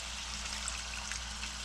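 A quarter cup of water poured into a hot pan holding tamarind pulp, giving a brief, even hiss and gurgle close by, with no talk over it.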